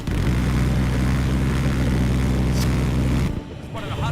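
A fighter jet in Battlefield 3 roars steadily with a dense, heavy engine rumble, then cuts off abruptly near the end, leaving quieter background noise.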